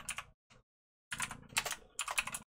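Short bursts of typing on a computer keyboard, close and clear, several quick clusters of keystrokes separated by brief pauses, with no voice over them.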